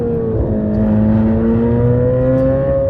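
A Corvette C8 Z06's 5.5-liter flat-plane-crank V8 with 670 horsepower runs loud and close, its tone climbing smoothly as it revs up with a steady whirring drone.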